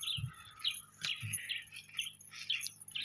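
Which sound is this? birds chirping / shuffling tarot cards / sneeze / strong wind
birds chirping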